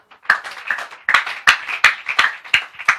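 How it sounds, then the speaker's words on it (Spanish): In a church service, a congregation claps for the King in a loose, irregular run of about a dozen sharp claps. A few hands are close and others sound fainter. "Dale aplauso al Rey."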